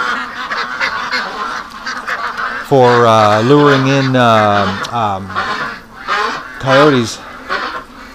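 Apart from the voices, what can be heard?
Muscovy ducks calling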